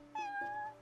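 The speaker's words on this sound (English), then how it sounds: "Oh, it's a kitty!" A cat in the video game Final Fantasy XV gives a single clear, drawn-out meow, close and fairly soft, with no talking over it.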